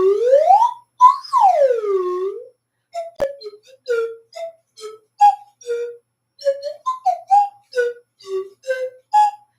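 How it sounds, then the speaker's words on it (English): A slide whistle played up close and loud, long swooping glides up and down followed by a string of short chirpy sliding notes. "Do you believe that? The slide whistle?"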